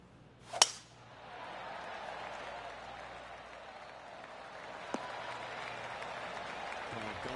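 Polite golf clap from a gallery crowd in PGA Tour 2K23 on PS5, a soft sustained patter of applause following a sharp strike, continuing evenly at moderate distance.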